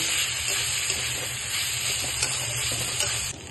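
A vegetable chop mixture with a little sugar and salt cooks in a pan, a steady close sizzle and hiss with soft scraping stirs running throughout.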